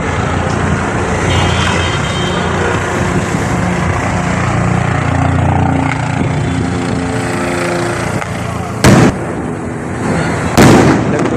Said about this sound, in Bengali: বোম ফেলাচ্ছে দুটো বোমের শব্দ দেখা যাচ্ছে সরাসরি বোম ফেলালো